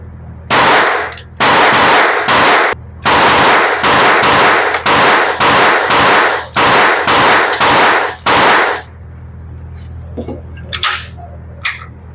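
Gunfire at an indoor shooting range: about a dozen loud, sharp shots in an uneven rapid series, followed by a few fainter distant reports.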